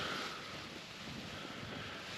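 Continuous rushing wind with broadband noise buffeting the microphone at 4:30 in the morning on Whernside, with heavy rain, steady and fairly loud, no voices.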